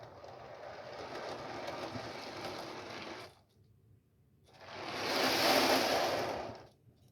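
Steady rolling rumble with a rhythmic clatter for about three seconds, a brief lull, then a louder, brighter rolling passage, as model railway tanker wagons run over track joints.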